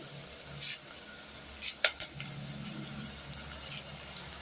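Green chillies and onions frying in a pan with turmeric, a steady soft sizzle throughout with a few brief clinks and stirring scrapes near the middle.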